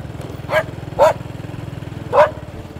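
A dog barks three times outdoors on a rural farm road in Long An, Vietnam, with sharp, fairly close barks spaced unevenly over a steady rumbling engine drone.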